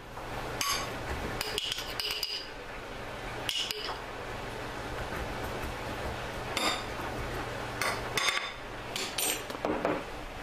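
A spoon mixes raw string beans with shaken garlic in a bowl, giving light irregular clinks and taps against the dish over a soft, steady background.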